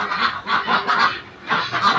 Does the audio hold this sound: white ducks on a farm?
yes